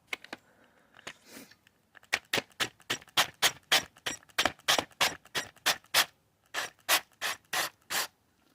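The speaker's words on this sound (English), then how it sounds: "we're just going to tap an M9 into this hole" A hand tap cuts an M9 thread into a glow plug hole, giving a series of about twenty short, rasping scrapes in a steady back-and-forth rhythm, close and clear, after a few sparse strokes.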